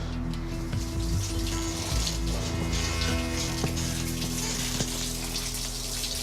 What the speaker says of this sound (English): there's a busted water pipe and you hear the water hitting underneath the house